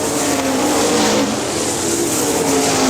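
410 sprint cars race wheel to wheel off turn 2 on the oval at Hartford Speedway Park, a continuous loud engine roar with a sustained drone and no break.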